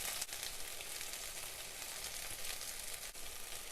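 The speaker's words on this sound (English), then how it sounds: "Let's fry this for 2 to 3 minutes." Spices and green chili fry for egg biryani in a pan: a quiet, even sizzle, faint and continuous, with no voices.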